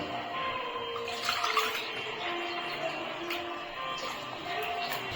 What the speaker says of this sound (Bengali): জল দেবো আমি দু কাপ